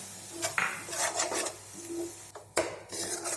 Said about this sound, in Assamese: চুজিখিনি দি দিছোঁ, এতিয়া অলপমান ভাজিম।